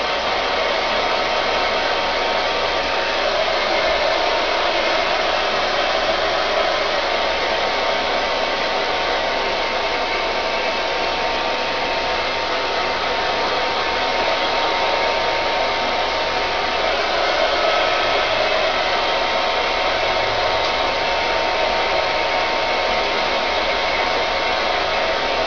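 A hair dryer on the cold setting blasts steadily and loudly throughout, a close, constant rushing airflow while it sets an A-line bob blow-out.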